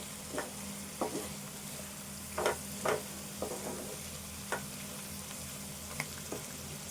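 Egg curry bubbling quietly in a pan, a soft continuous simmer broken by occasional spoon taps and stirring scrapes, faint and close.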